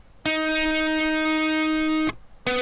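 A dry, unprocessed electric guitar track from a mix, panned partway right, rings out as one long sustained bright chord, then cuts off before a second chord begins, alone with no voices.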